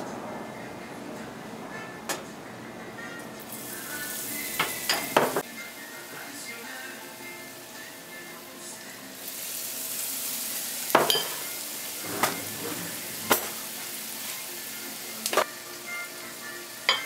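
Battered pineapple pieces frying in very hot oil give a steady, faint sizzle, broken by occasional sharp clinks of a utensil against the pan.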